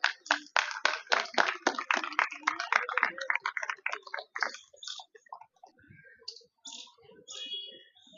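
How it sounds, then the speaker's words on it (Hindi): An audience at a PWD SC ST program in India bursts into applause, dense clapping that starts loud and close and thins into scattered claps over several seconds. "जोरदार तालियां साथियों"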